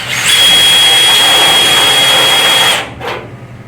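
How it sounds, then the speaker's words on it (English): A loud power drill with a cone bit drilling holes in metal whines steadily for a few seconds, then stops and briefly revs once more. "I do recommend on a slow speed with these cone bits for drilling your holes"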